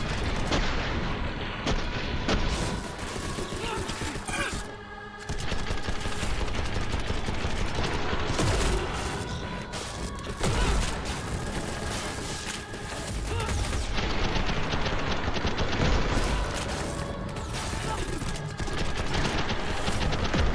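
Rapid submachine gun fire from the video game SPRAWL, loud and sustained across the whole stretch in dense bursts, with one short lull midway.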